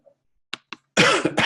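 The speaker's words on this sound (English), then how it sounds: "Sorry about the coughing today," A person coughs: two short, sharp coughs, then a louder, rougher burst of coughing that breaks off and starts again at the end.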